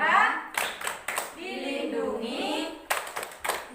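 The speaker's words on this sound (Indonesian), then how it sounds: "Ayo tepuk perlindungan anak." A group claps in rhythm during a child-protection clap chant, with sharp bursts of clapping breaking through steady spoken and chanted voices throughout.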